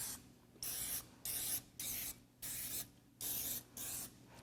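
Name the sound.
cooking spray on a muffin tin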